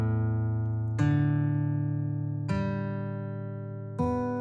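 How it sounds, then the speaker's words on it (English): Sampled acoustic guitar plucking open strings one at a time, four clean notes spaced evenly about a second and a half apart, each ringing and slowly fading before the next, heard alone without talking. "those are the open notes played on an acoustic guitar sample"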